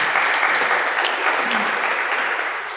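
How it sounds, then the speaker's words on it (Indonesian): Loud, dense applause fills the hall at the opening of a badminton tournament, a steady roar of many hands that holds evenly before tapering slightly toward the end. "tepuk tangan untuk kita semuanya"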